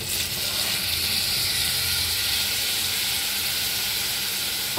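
Six large chopped tomatoes go into a pan of frying masala for prawn curry, giving a steady, even sizzle and hiss close by without speech.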